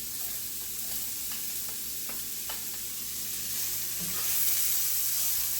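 Oil sizzles steadily in a cast iron skillet, a close, even frying hiss with faint stirring clicks and no talk.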